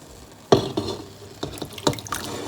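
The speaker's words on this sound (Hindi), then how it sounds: "अब इसमें मैं कलेजी डालूंगा।" Beef liver pieces drop into a pot of boiling water, giving a sharp splash followed by a few softer watery plops and bubbling.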